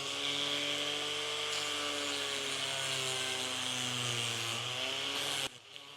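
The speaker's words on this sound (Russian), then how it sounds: "Я заровнял этот край шлифовальной машинкой." An electric sander smooths the edge of a leather cardholder piece, giving a steady, loud mechanical whine with strong tonal harmonics for over five seconds before it cuts off abruptly near the end.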